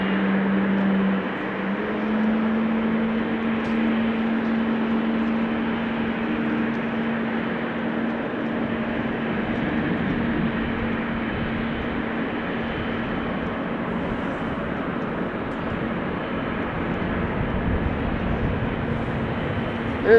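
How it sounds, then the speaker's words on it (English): A Boeing 777 being pushed back on the apron at Amsterdam Schiphol Airport gives a steady, droning engine and ground-equipment rumble that holds evenly throughout without pause. "And another pushback of another 777."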